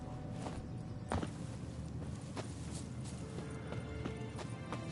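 Hooves clip-clop at a slow walk in The Witcher 3 on PS5, scattered muffled steps over a steady low ambient bed, fairly faint with no talking.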